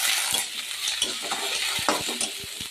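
Ginger paste and garlic paste frying in a pan for a pomfret fish curry, loud close sizzling with quick rhythmic spatula taps and scrapes against the metal.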